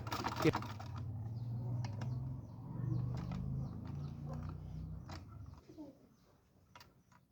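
A Singer sewing machine runs a test seam while its tension nut is being adjusted, giving a steady, fast mechanical clatter of stitching near by for most of the stretch before slowing and fading at the end.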